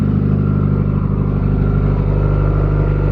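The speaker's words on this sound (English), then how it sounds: "just turned the car on" A 2017 Subaru Forester engine idles just after startup, slightly rough after an engine restorer treatment, a loud, steady close drone with a continuous low hum and no talk.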